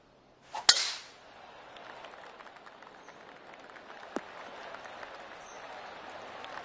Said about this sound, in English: Let's have a good tee shot and take it from there.